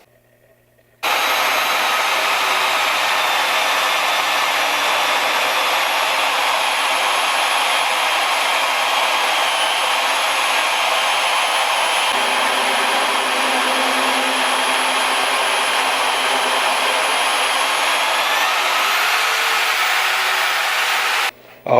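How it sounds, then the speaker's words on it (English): A loud, steady high-pitched whine of a powerful magnetic drill boring through half-inch steel plate runs continuously for about twenty seconds, starting and stopping abruptly, with no talking. "I'm gonna drill 11 holes with all 11 available different size bits."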